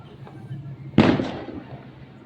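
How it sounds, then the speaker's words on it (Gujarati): A single Diwali firecracker bursts outside with a sharp, loud bang that fades into a rumbling echo over a low background hum. "અત્યારે ફટાકડા કેવા ફૂટે છે"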